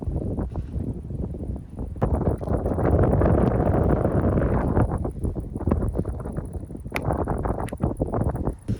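Wind buffets the microphone in loud, gusty bursts, easing briefly in places, with no voices.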